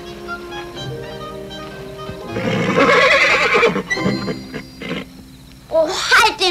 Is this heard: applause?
no